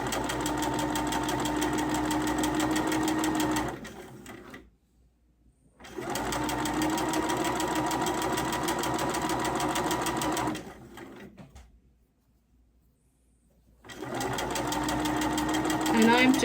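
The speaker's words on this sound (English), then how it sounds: "I'm just stitching at a nice rhythm." A sewing machine stitches quilt fabric for a Double Irish Chain quilt with neutral thread, running at an even, moderate rhythm in three long, loud stretches separated by brief silent pauses.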